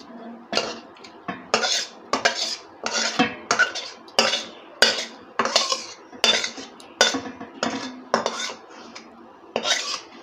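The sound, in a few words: chicken being poured into pot over rice for biryani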